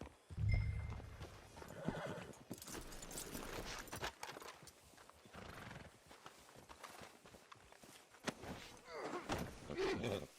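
In Red Dead Redemption 2, a horse whinnies and snorts while hooves clip-clop on the ground, the sounds close and repeated over a continuous rumbling background.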